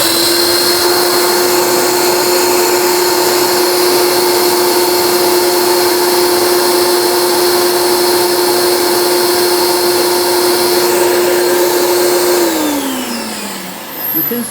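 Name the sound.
carpet cleaner running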